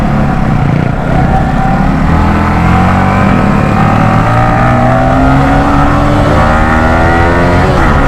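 Two motorbike engines, among a Yamaha R15 V4, Bajaj Pulsar NS200 and KTM Duke 250, roar loudly together in a street race, revving and climbing in pitch, a continuous close, harmonic drone throughout.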